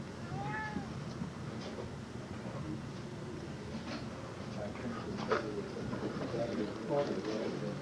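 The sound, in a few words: cat meowing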